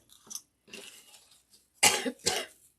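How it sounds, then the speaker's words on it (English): A person coughs several times close up, a couple of light coughs followed by two harder, louder bursts, with short pauses between. "All that dirt has got me coughing."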